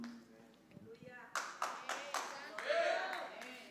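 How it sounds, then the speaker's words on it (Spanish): A small group claps in scattered bursts, uneven and fairly close, after a voice trails off. "Gracias por ese aplauso."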